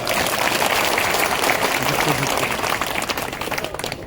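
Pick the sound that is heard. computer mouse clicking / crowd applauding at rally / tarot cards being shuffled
crowd applauding at rally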